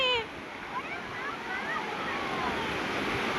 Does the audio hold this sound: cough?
no